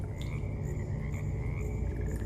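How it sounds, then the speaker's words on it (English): A frog croaks in a Minecraft modpack world, a steady trilling call rising over constant low ambient hum and insect-like chirps, with no talking. "I just heard a frog."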